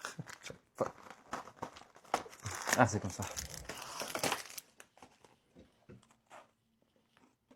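A biscuit packet is torn and crinkled open by hand, with sharp plastic rustles and crackles that peak mid-clip and fade toward the end, under intermittent talk.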